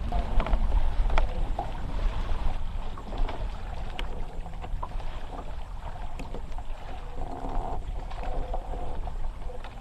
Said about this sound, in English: that trolling motor, just in spot lock feature, your anchor feature, does make quite a bit of noise